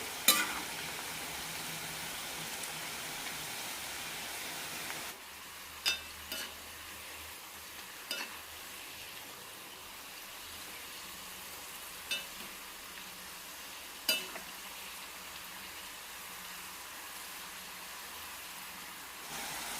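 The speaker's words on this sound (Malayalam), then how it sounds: "മീഡിയം ഫ്ലെയിമിലിട്ട് വറുത്തെടുക്കാം" Sweet potato chips fry in hot oil over a medium flame, a steady dense sizzle holding throughout with scattered sharp clicks and taps from the pan, no voices.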